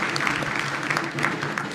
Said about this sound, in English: A round of applause to Kisii University.